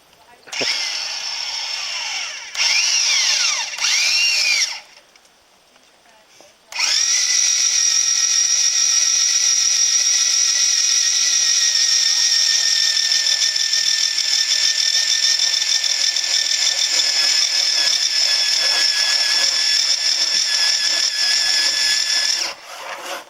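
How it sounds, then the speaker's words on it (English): Drilling by hand into old wood during a housebarn restoration: a few short, stop-start bursts, then a long, steady, high whine that holds for about sixteen seconds before cutting off. "it's just kind of cool to be hand drilling"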